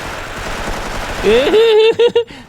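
Gunfire in the Special Force M Remastered mobile first-person shooter game: a few sharp, rapid bursts near the end, mixed with a man's vocal sounds.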